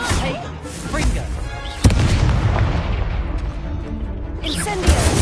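Incendio fire spell cast in the video game Hogwarts Legacy, a sudden booming burst followed by a rushing, roaring fiery blast under busy in-game combat noise.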